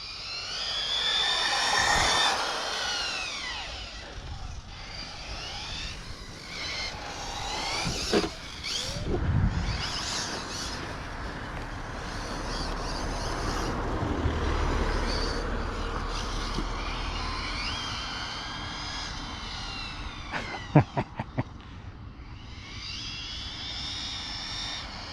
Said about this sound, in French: Donc le sifflement du moteur est toujours là